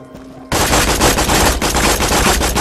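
Loud, continuous automatic gunfire from the shooter video game Borderlands 2, fired at a Goliath enemy in Frostburn Canyon, bursting in abruptly after a quiet moment and rattling on in rapid, dense volleys.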